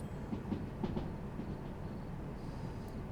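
A DM3 locomotive in the Derail Valley train-simulation game runs along the track with a steady, close rolling rumble and faint wheel clacks throughout.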